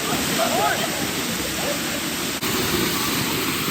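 A waterfall roars in a loud, steady rush of falling water, close by, with faint voices barely audible beneath it.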